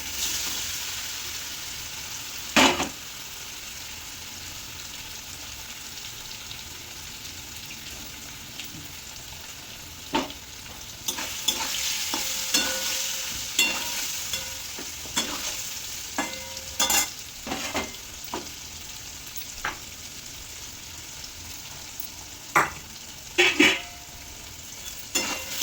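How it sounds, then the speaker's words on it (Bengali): Paneer pieces, rubbed with turmeric, salt and a little sugar, fry lightly in a pan with a steady hiss of oil, broken by sharp crackles, pops and a few spatula scrapes spread across the stretch. "পনিরটা বন্ধুরা এরকমভাবে লাল করে ভেজে নিয়েছি হালকা হালকা করে"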